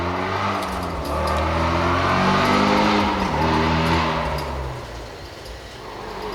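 A car engine revving outside, a loud sustained roar that climbs and holds for several seconds, then eases off, with no voices over it.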